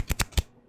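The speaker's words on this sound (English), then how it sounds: "So I'm just shuffling." Three quick crisp riffles of a deck of playing cards, close and dry, then quiet.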